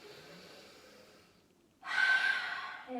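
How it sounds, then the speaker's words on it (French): During a yoga session, a soft, breathy sound is followed by a loud, deep exhale through the mouth, close to the microphone, which trails off and is then followed by another faint breath. "Expirez tout par la bouche."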